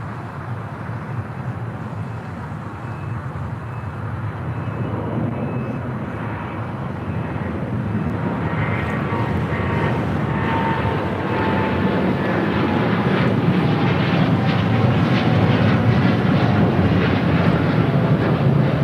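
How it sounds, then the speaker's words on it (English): United Boeing 787 Dreamliner taking off from LAX runway 25 right, its engine roar building steadily from a moderate rumble to a loud, sustained thrust. "this United Dreamliner now rolling down 25 right, heading to Tokyo Narita"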